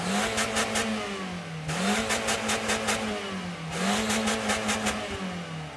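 The Toyota 1.5-litre, 109 hp engine of an ATV dozer revs up and down in steady, looping surges. Its hum stays loud and close for the whole stretch, with no talking over it.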